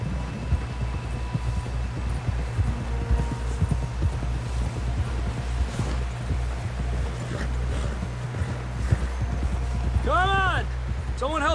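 Rapid rhythmic hoofbeats of a galloping horse in Red Dead Redemption 2 on PC pound steadily under a low engine-like hum, with a brief rising whine near the end.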